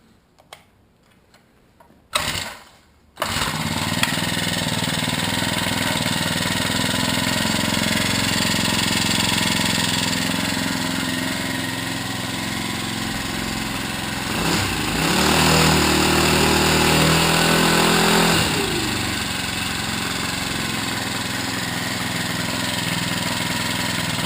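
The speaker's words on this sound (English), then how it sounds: "It has a Honda 4-stroke GX31 31cc engine." A Honda GX31 31cc four-stroke engine on a Staton friction drive is pulled to start with a few clunks, then catches and runs at a steady, close, buzzy idle, its pitch rising briefly midway before settling again.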